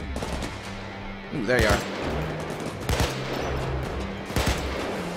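AK rifle in Payday 2 firing loud, close bursts of automatic gunfire, three distinct volleys spaced a second or so apart, with someone briefly speaking between shots.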